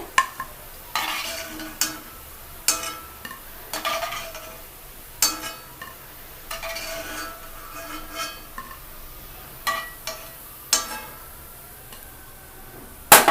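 Bread gulab jamuns fry in a pan of oil under a soft sizzle, broken by regular scraping and clinking strokes of a spoon against the pan roughly every second.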